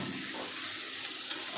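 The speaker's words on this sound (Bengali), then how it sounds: "তারপরে মশলার সাথে আলুটাও ভালো করে কষিয়ে নেব" Fried potatoes are stirred with spices in a pan, making a soft, steady sizzling hiss up close with faint scraping, short and even in level.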